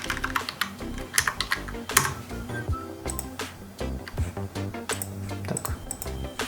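Fast typing on a computer keyboard, close and fairly quiet, with a dense, irregular patter of key clicks and a few louder strikes, with no voices.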